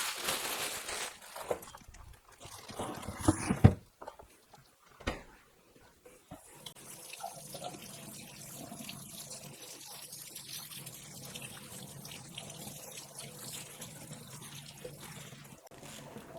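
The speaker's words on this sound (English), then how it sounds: "I got some Chinese vegetables here, and I'm going to wash them" Chinese vegetables being rinsed under a running tap, with a few louder splashes and bursts of pouring water early on, then a steady soft trickle continuing in the background.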